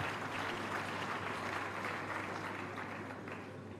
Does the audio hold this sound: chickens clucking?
no